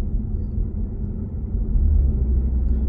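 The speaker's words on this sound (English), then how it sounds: "your engine kicking in there." A low engine rumble from a Skoda Octavia mk4 1.4 petrol hybrid as the petrol engine kicks in, rising and thickening partway through, a deep droning hum heard from inside the car with no talking.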